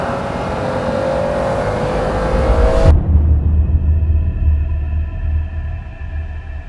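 A McLaren F1 car engine, a loud, steady rumble that swells toward a peak near the middle, then drops to a lower, rougher drone that fades slightly.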